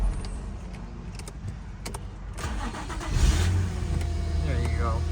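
An Infiniti G25 G35 G37 with a stalling-after-idle fault, code P0462, cranks and starts after a key jangle and a few clicks, then settles into a steady idle nearby while someone talks.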